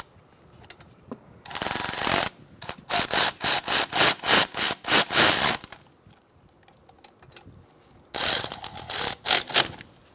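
A ratchet snugs down the front brake bolts on a 2014-2019 Kia Soul, first in a quick continuous burst, then in a series of rapid rhythmic clicking strokes, pausing before another short run of clicks near the end.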